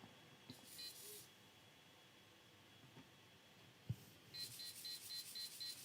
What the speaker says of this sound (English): when the servo goes slower, the buzzer goes slower